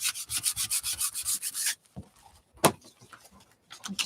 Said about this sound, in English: I'm okay with sanding it down a little bit. I'm sorry for anybody that doesn't like that sandy noise